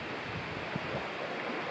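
Sea water washing around feet at a Danish shore on Lolland or Falster, a steady soft wash of surf with some wind noise, gentle and continuous with no talk.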